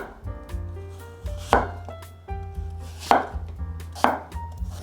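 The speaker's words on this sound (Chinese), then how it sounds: "把苹果切片" An apple cut into thin slices with a knife on a board: a few separate, fairly loud chopping knocks spaced about a second apart, with steady tonal music underneath.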